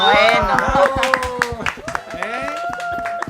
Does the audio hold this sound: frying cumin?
no